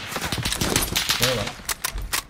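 Gunfire in Call of Duty Warzone: rapid bursts of automatic fire and scattered shots, loud and close, with a player's voice speaking over it.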